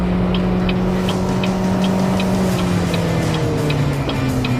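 A hybrid car accelerates hard from a standstill, heard as a steady motor drone with tones that slowly rise and shift. Faint regular ticks run through the sound, and nobody speaks.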